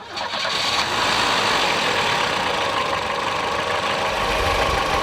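A 1987 Volvo 740 Turbo engine with 412,000 km idles under an open hood. It gives a steady, close, even mechanical drone with a light rattle that holds unchanged throughout.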